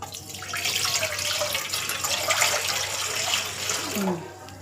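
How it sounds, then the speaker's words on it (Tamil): Water pours steadily into a pot for about four seconds, a full splashing rush that tapers off at the end. "தண்ணி ஊற்றிக்கலாம்."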